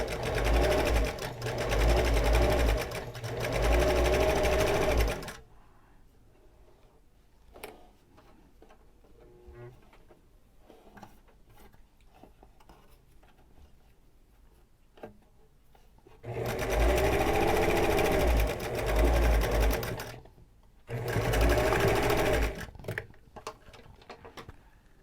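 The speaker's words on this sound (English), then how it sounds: "I reverse on the edges and sew it again every time I sew one of these masks shut" A sewing machine stitches the edge of a fabric face mask closed in loud, close, continuous whirring runs. Quiet handling and small clicks come in the gaps between runs.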